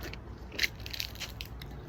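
A single crisp bite into a crunchy, sweet white-fleshed guava fruit, a short close crunch followed by softer chewing crackles.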